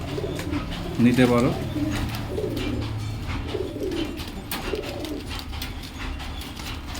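Domestic flying pigeons in a loft coo in a deep, rolling burst near the start, with softer coos and rustling afterwards, while someone talks over them close by.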